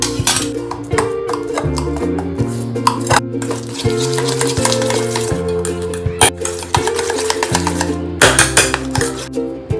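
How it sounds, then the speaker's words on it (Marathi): A wire whisk beating soft room-temperature butter in a bowl, with quick repeated scraping and clinking strokes in an uneven rhythm, close and fairly loud over a steady tonal hum in the background. "विस्करच्या साहाय्याने आपल्याला हे बटर फेटून घ्यायचं आहे"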